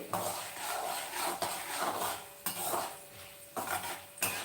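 Ingredients frying in a pan for rice rava upma, with a utensil repeatedly scraping and clinking against the metal at irregular intervals over a low, continuous sizzle close by.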